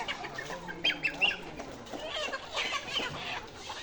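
Layer pullet chickens waiting for delivery cluck and squawk together in a restless, overlapping chorus, fairly faint and continuous throughout.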